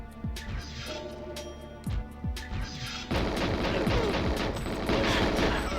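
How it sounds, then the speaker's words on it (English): Goldeneye 007 video game gunfire: several booming shots at first, then a dense, continuous rattle of automatic fire with explosions that swells and fills the rest of the time, with no talking. "I'm shooting at you, buddy."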